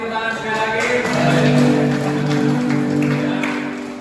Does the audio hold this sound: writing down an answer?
no